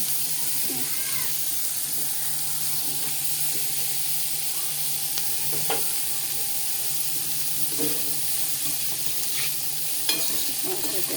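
Onion and green chili fry over high heat in a pan, a steady hissing sizzle with occasional stirring clinks and a faint background hum, continuous and close, with no speech.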